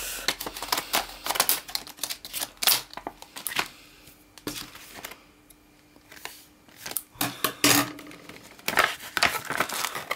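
Crinkling plastic and tape on Pokémon Black & White Plasma Freeze duo-pack packaging, with sharp snips and tearing in irregular bursts between quieter pauses, close up.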